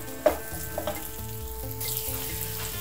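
Vegetables frying in a pan for Chinese egg noodles, a close and steady sizzle with a few stirring clinks over a low hum and no talking.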